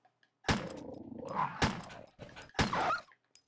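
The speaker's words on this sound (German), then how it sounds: "Hier müssen wir aufpassen, hier gibt es gleich wieder Hunde." A few sharp dog barks and yelps with a snarling edge from enemy dogs in Resident Evil Director's Cut, close and loud, in bursts separated by short pauses.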